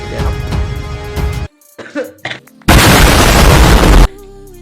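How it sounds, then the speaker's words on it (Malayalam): A person coughs loudly a few times up close, followed by a brief quiet pause and a harsh burst of noise. "ചുമയാണ്"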